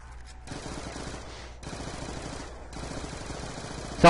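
Submachine gun fire in Call of Duty Zombies on the Die Rise map, a steady rapid rattle of shots sustained nearly throughout, briefly pausing twice, loud against the game's background.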